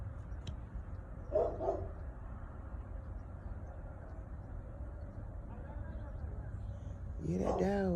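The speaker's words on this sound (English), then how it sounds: "Hear that dog. Hear that dog." A dog barks in a couple of short bursts early on, then again louder near the end, set against a steady outdoor noise floor with no talk in between.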